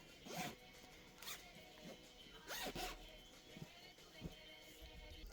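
A zipper on a pillow being pulled open, giving a few short, brisk rasping zips in quick bursts, close and fairly quiet.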